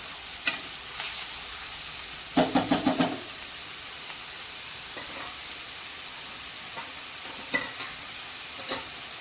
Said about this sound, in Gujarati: અને 2 થી 3 મિનિટ આને સોતે કરવાનું છે મિત્રો